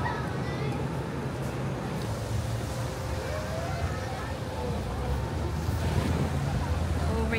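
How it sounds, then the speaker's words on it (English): Wind and surf at Boracay beach: a continuous rush of breaking waves mixed with gusty wind buffeting the microphone, steady and loud throughout, with voices faintly underneath. "It's probably really windy."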